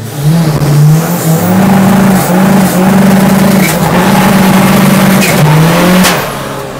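A Seat Arosa TDI race car with a tuned diesel making over 400 horsepower drives past loud and close, its engine revving hard through repeated rising and falling pulls with no talking.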